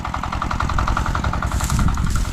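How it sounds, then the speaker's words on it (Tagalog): A farm machine's engine runs steadily close by, a dense mechanical drone with a regular throbbing pulse that holds level throughout and does not let up. "Maanto na yung makina natin."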